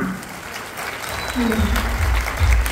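An audience claps at a Diwali bumper-offer lucky draw coupon event, the applause swelling and growing louder toward the end while a voice carries over it.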